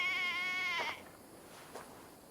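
A sheep in the Viking-era game Assassin's Creed Valhalla gives one loud, wavering bleat lasting about a second, followed by faint rustling and a short soft thump.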